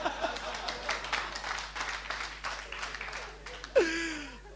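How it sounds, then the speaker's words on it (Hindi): Applause breaks out at an Eid celebration gathering, a steady patter of many hands clapping for several seconds. Voices and crowd murmur run underneath, and a sharp cry or whoop rises near the end. "तालियां"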